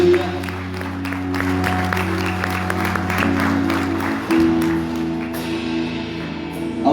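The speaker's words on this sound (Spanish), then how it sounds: "¿Quiere darle un fuerte aplauso al Señor?" A church congregation claps during a Spanish-language worship service, a steady wash of applause over a sustained organ-like drone, fairly close and even in loudness, with a brief shift near the end.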